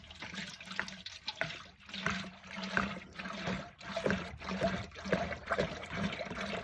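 Three gallons of oil pour steadily into a turkey fryer pot outdoors, a continuous sloshing, glugging stream in uneven surges, fairly quiet and heard alone.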